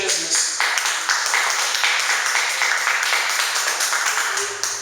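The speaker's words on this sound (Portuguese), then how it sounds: "Quem pode aplaudir o Senhor Jesus?" A church congregation applauds during a sermon, loud dense clapping sustained throughout with a faint hum underneath and no clear voices.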